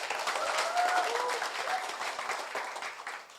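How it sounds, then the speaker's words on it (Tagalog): A seated audience claps loudly at a company sales event, with steady dense applause that tapers slightly toward the end. "Pakilakasan po ang palakpak."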